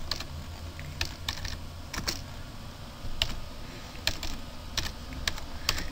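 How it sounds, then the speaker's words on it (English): Keystrokes on a computer keyboard come in short irregular bursts of clicks, close and fairly quiet over a low steady background hum. "And you type anything in there."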